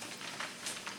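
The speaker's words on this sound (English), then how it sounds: "My onions is frying in my red oil." Onions fry in red palm oil for Nigerian agusi stew, a faint, steady sizzle with small crackling pops, quiet and close.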